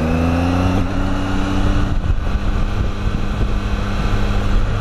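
A 2019 Triumph Tiger 800 XRX motorcycle with an 800cc engine rides along an avenue, giving a loud, steady engine drone with wind buffeting the microphone and no talk.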